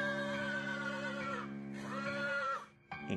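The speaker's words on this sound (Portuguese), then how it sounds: "Mas logo ouvi um alto relincho." A horse neighs loudly in long, tremulous whinnies. Two sustained calls are followed by a brief harsher burst after a short gap.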